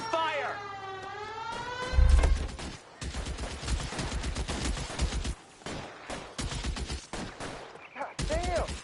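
Rapid gunfire in the video game L.A. Noire bursts out in dense volleys against a wailing siren, with shouted voices between and over the shots.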